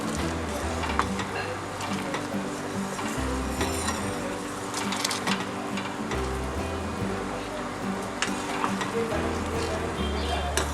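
Sugar syrup bubbles and sizzles steadily in a pan on the stove, a continuous close crackling hiss with occasional knocks of a utensil, while someone talks over it.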